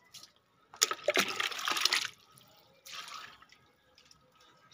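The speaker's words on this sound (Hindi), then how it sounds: "हमारी एक लाइन पूरी होने वाली है पानी डालने का।" Water poured out in a splashing stream onto the ground along a line, one sustained hissing pour of about a second followed by a shorter, softer pour, with no talking.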